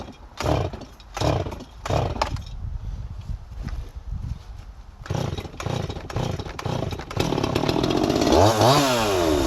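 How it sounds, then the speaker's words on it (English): A Holzfforma G255 chainsaw, an MS250 clone with its low-speed carburetor setting out of adjustment and loading up on fuel, sputters and revs in bursts, then settles into a loud, steady running roar close by. "Sounds like the low side's a little out of adjustment. It's loading up on fuel."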